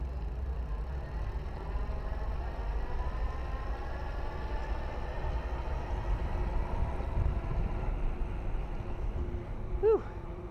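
A GenZe E101 electric bike rides on its twist throttle, its faint electric motor whine rising gradually in pitch over low road and wind rumble.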